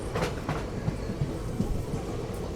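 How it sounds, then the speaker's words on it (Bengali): A Teesta Torsa Express passenger train pulling out of Ambika Kalna station, heard from on board as a steady low rumble with rhythmic wheel clacks over rail joints, continuous and fairly loud throughout. "ট্রেন এখন তার 3 নম্বর যে হল্ট অম্বিকা কালনা স্টেশন ছেড়ে বেরিয়ে গেল।"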